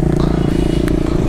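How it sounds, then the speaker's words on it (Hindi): A motorcycle engine, on a street ride with R15M, Duke 250 and KTM RC 200 bikes, growls loud and close with a rapid pulsing rumble during a brief wheelie attempt. "व्हीली का ट्राई गाइस, व्हीली फेल।"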